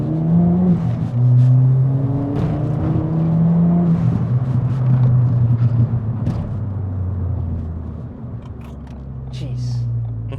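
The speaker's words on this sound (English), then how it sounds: "So I'm going to see if I can just kind of do a quick pull here," Ford Fiesta ST at Stage 3 tune accelerating hard from first gear, engine note climbing steadily in pitch from inside the cabin, with excited voices over the rising drone.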